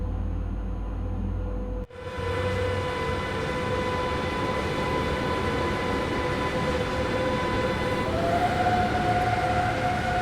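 DB class 145 electric locomotive hauling tank cars in Train Sim World 6, starting off with a steady loud electric traction drone and whine; a brief dip is followed by a rising motor tone that climbs in pitch near the end.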